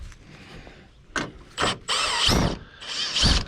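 A ratchet with a short 10 mm socket works loose a headlight bolt on a 2007–2014 Chevy Silverado: a few sharp clicks, then longer rasping ratchet runs, close and fairly loud.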